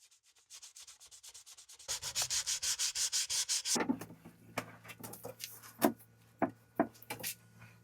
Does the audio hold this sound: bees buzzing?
no